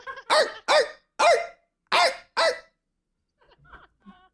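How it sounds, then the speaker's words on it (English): Five loud, evenly spaced dog barks ring out close by, followed by a few faint, brief sounds. "The dog bark."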